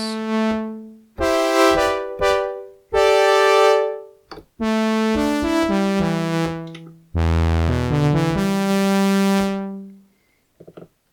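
Korg Wavestate synthesizer with chorus applied, playing a sequence of sustained harmonic notes and chords with slow attacks, a few short gaps between phrases, loud and close with no voices.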